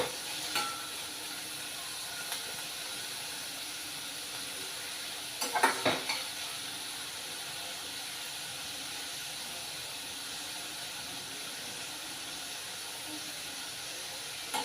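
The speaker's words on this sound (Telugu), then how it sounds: "ఇంకోటి మినపప్పు ఆవాలు జీలకర్ర పచ్చిమిర్చి ఎండుమిర్చి ఉల్లిపాయలు వేసి వేయించుకోవాలి ఇలాగా" Urad dal, mustard seeds, cumin, green and dried chillies and onions fry in hot oil with a steady, even sizzle. A few utensil scrapes and clinks come through near the middle, close and moderately quiet.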